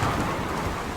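Thunder and rain in a watched show, a brief loud burst of rumbling thunder over dense, hissing rainfall.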